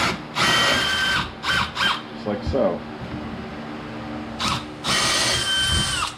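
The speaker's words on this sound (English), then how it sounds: "I'm going to drill the old threads out" A power drill bores out the old bolt threads on a Cub Cadet RZT-54 zero-turn mower, whirring in several loud, short bursts with brief pauses and someone speaking between them.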